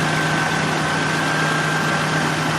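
A Nissan VG33E V6 idles steadily close by, a constant low hum with a faint tonal whine running through it and no voices.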